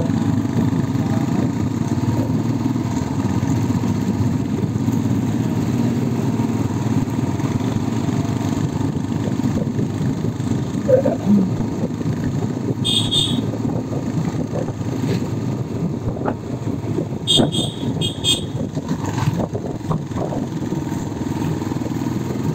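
Motorcycles idle and roll at low speed at the Kallathigiri falls check post in Chikkamagaluru, a steady close engine drone throughout with brief higher rattles and a horn-like chirp midway.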